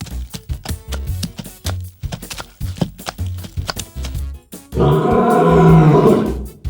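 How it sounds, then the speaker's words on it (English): A wild lion lets out one loud, sustained roar near the end, after a stretch of rhythmic, punchy percussion music. "L is for lion."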